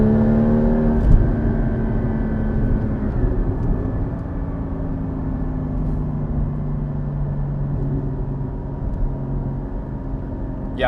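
A Porsche GT4 on snow tires accelerating on a winter drive, its engine note climbing in a strong, steady drone with rising harmonics, then settling into a sustained near whine for several seconds.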